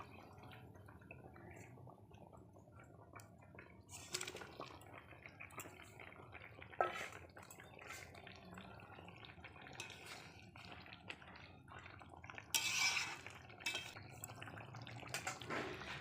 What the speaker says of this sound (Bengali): তো দেখো ঝোলটা ফুটে উঠেছে